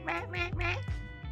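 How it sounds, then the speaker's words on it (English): A pet parrot squawks indoors in a quiet house, giving four or so harsh, tonal calls in quick succession, close and fairly loud. "Also, apologies if you can hear my pet parrot in the background."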